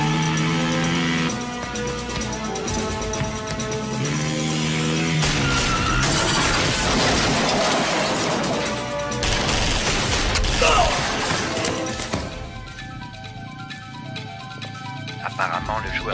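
Bursts of rapid gunfire crackle and crash through a loud, busy game soundtrack with music and clattering impacts throughout.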